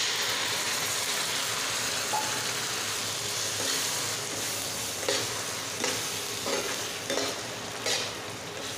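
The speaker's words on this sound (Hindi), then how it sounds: "अब हम इसमें पालक का प्यूरी डालेंगे।" Spinach puree with chopped chilli in a hot pan for garlicky palak gives a steady broadband sizzle, with several soft stirring scrapes and clicks rising above it toward the end, no voices.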